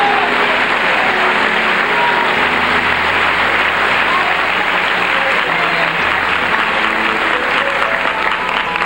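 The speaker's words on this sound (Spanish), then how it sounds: "Dale palmas al Rey en esta noche." A church congregation at an evening service claps steadily in praise of the King, a dense, continuous wash of applause filling the room at constant loudness throughout.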